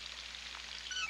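Water runs from a faucet in a steady, even hiss, close and moderately quiet, with a faint high whistle near the end.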